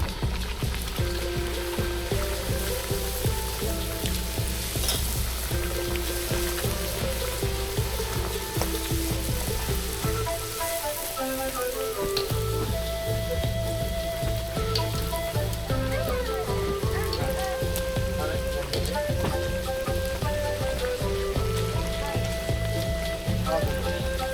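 Bhatura deep frying in hot oil gives a steady, loud, dense sizzle that runs continuously throughout, with bubbling crackle and faint kitchen sounds mixed in.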